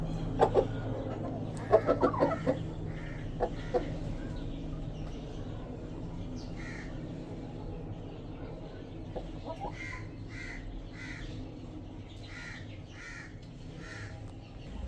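Farmyard fowl clucking and calling on a poultry farm, with several close, sharp cackles early on and a steady run of softer repeated calls over constant low background noise, no talk.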